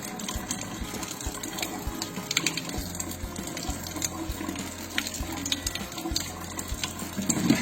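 Tap water runs steadily over a greasy, oil-coated kitchen exhaust filter, a continuous close splashing and gushing with small clinks of metal, no talking.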